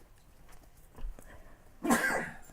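A single abrupt sneeze near the end, close and fairly loud, after a quiet stretch of faint handling sounds while sewing a backpack.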